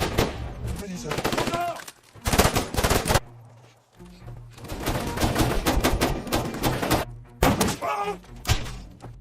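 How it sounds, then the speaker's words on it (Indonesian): Gunfire from an action film about trapped special forces comes as loud bursts of rapid shots and heavy impacts in several dense volleys, separated by brief lulls with low rumble. "Di sini Amin harus tewas tertembak oleh Zaev"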